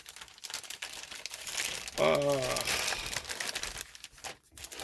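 A plastic poly bag crinkles and crumples as it is pulled open around a vintage Real Ghostbusters Fright Features toy, with a brief voiced remark in the middle of the close, steady rustling.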